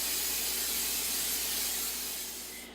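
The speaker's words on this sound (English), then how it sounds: "Both of these need to be coated with just a little bit of cooking spray." Cooking spray hissing from a can onto the insides of mixing bowls, one continuous close and fairly loud spray that fades slightly before stopping.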